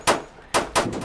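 Three sharp gunshots crack in a Roblox neighborhood, one single shot and then a quick pair, near and punchy with no voices over them.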